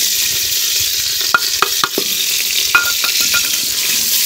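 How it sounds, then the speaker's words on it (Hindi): Ginger garlic paste sizzles steadily in hot ghee in a pan, with a constant loud hiss broken by a few sharp scraping and stirring clicks. "घी थोड़ा सा पकने लगा तो इसमें डाल दिया जी हमने लहसुन अदरक का पेस्ट"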